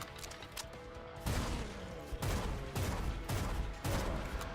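Gunfire from shooting an enemy in the video game Bloodshed comes as a series of loud, close bursts about a second apart, each a sharp crack that fades away.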